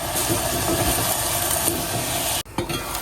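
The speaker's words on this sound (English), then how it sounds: "So I'm just going to leave that to simmer for a couple of minutes just to soften." Food simmering in a pan while cooking a porridge-based meal, a steady dense hiss and bubbling sizzle, close and even throughout, briefly cut out near the end before resuming.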